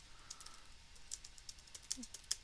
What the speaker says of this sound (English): and I'm just typing it out.